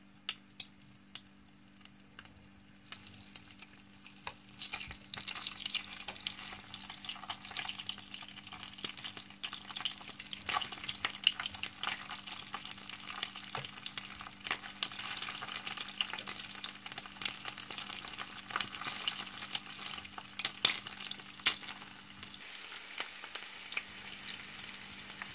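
Stuffed tofu frying over medium heat in a pan, a steady close sizzle with crackling pops that rises after a quiet start and holds evenly, with a faint low hum underneath.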